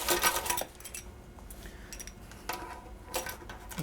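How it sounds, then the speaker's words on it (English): Metal clatters and clinks as a baking pan holding a pizza crust is handled and flipped onto a cooling rack, in short bursts of rattling separated by quiet pauses. "put that on top, flip my pan over"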